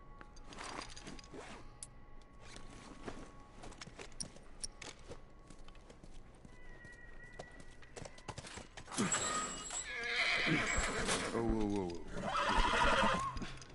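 Hooves clop over rustling movement in The Last of Us, then a horse lets out a loud, wavering whinny near the end; a voice speaks briefly.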